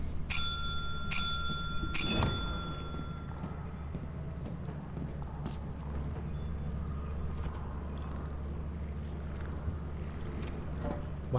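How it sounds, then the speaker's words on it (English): Bell ringing in the video game Lethal Company: three sharp, bright metallic rings in quick succession at the start, the third ringing out longest, over a steady low background hum, followed by scattered faint clicks and thumps and no talking. "Why did I just hear the bell again?"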